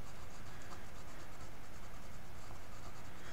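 A basic mechanical pencil scratches steadily across the paper of a drawing journal, making a close, continuous soft scraping with faint rhythmic strokes and no voices.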